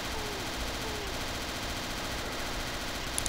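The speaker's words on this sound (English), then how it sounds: "Just be careful of the chain gun, dude." Sustained chain gun fire in the Castle Totenkopf game, a continuous dense rattle of rapid shots that fills the whole stretch with little break.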